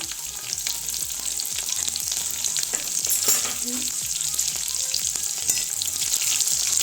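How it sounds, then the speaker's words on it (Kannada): Crushed garlic frying in hot oil for a garlic chicken fry makes a loud, continuous crackling sizzle with a few faint stirring scrapes, close up and without talk. "ಜಜ್ಜಿರುವಂಥ ಬೆಳ್ಳುಳ್ಳಿನ ಹಾಕ್ಕೊಳ್ತಿದ್ದೀನಿ."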